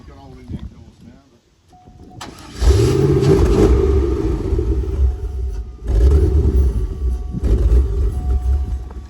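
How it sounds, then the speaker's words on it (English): C4 Corvette ZR-1 engine running loud and rough through a holed exhaust, a deep rumbling drone that swells and rises in revs, with brief voices near the start. "A bit noisy because he's got hole in the exhaust now."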